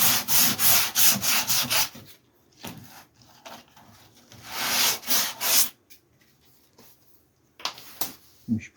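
Body filler on a Ford Escort MK1 is sanded by hand, with bursts of quick rasping strokes that stop and restart, close and fairly loud, separated by quieter gaps.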